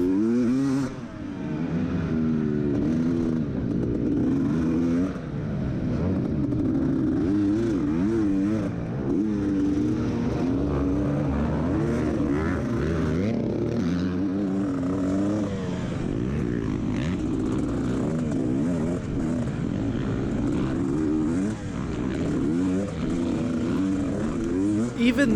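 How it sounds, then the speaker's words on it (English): A dirt bike engine labors and bogs on a small incline during a GNCC off-road race at Big Buck, a loud, steady drone with uneven revs that sits close and continuous throughout. "Right here, however, is a prime example of my bike bogging."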